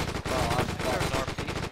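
A machine gun rattles in a WWII D-Day video game, a rapid continuous burst of loud close shots with brief gaps, layered over busy game noise.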